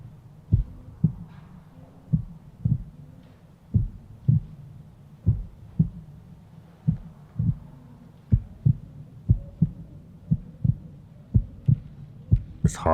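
Steady heartbeat sound effect from the video game Money Game, paired lub-dub thumps repeating evenly and gradually speeding up, loud and close with no talk over it.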